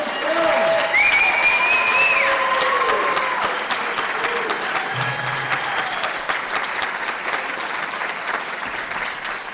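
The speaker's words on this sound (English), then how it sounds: "One more round of applause for the actors." A theater audience at a premiere claps for the actors in a loud, sustained burst of applause with scattered whoops that slowly tapers off, a voice briefly audible underneath.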